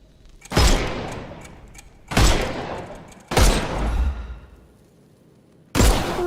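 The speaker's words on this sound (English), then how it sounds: "Shoot off their armour." Heavy gunfire bursts in a Sherlock Holmes video game, shooting the armour off enemies: four loud, close blasts, each a sharp broadband crack with a decaying rumble tail, spaced irregularly across the stretch with quiet gaps between.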